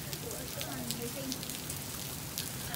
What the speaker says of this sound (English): Oh my goodness, it's literally hailing.